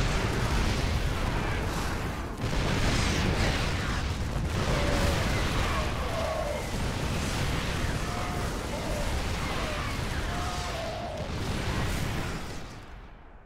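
StarCraft II siege tanks fire on an advancing army in a Terran versus Terran match, a dense run of heavy booms and explosions rolling on continuously under excited caster talk.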